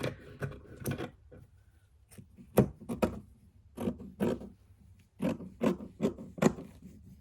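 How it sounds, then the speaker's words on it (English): Trimming the velvet cover of a junk mail journal: quiet, irregular rasping snips and rubs in short bursts, close up in a still room. "now I gotta trim it"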